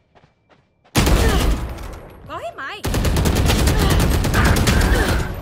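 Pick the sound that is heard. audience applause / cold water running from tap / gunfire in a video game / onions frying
gunfire in a video game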